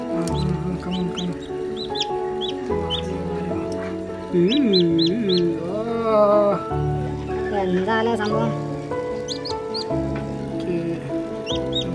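A newly hatched country chick gives high, thin peeps in short clusters, near and faint, while people talk in Malayalam over and between the calls.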